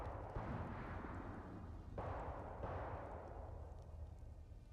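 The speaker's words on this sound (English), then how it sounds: "Explosions and a bomb's going off." Explosions and bombs go off in the video game Hell Is Us, as deep rumbling booms with two sharper bursts rolling over a continuous low roar, heard faintly and at a distance.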